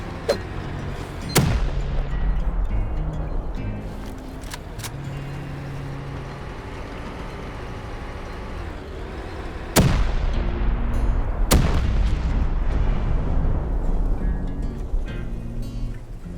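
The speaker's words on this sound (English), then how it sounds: "throw C4 onto the tank itself a total of 3 times" C4 charges detonating against a Bradley tank in the video game Rust, with several sharp, loud blasts over a steady rumble of engine and battle noise, and no talk.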